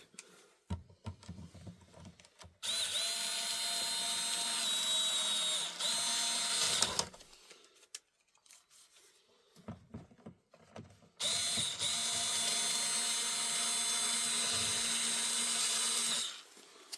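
Power drill drives screws back into a Kirby Sentria vacuum cleaner housing, two long whirring bursts of several seconds each separated by quieter pauses with small clicks and handling noises.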